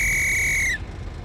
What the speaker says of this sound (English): The whistle signal is one long whistle.